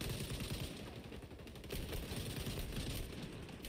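Rapid automatic gunfire in the online shooter XDefiant, a dense, continuous rattle of shots at a steady level throughout, with no voices over it.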